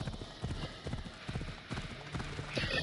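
Horse hooves clip-clop at a steady walking rhythm in Assassin's Creed Odyssey, quiet and close, with a soft whinny or game noise rising near the end.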